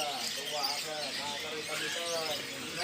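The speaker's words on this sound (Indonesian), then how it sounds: "Burung antik buat masteran" Caged songbirds chirp and warble at a bird market stall in Pramuka, Jakarta, their overlapping calls steady and fairly close under a busy crowd murmur and a vendor's voice.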